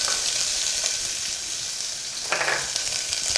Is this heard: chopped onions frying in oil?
yes